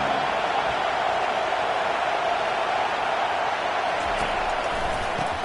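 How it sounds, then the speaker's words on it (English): Steady broadband crowd roar from a stadium in a college or pro football video game, swelling slightly on a third-down defensive stand, continuous and fairly loud with no clear talk over it. "Decibels rising as the crowd gets behind this defense on third down"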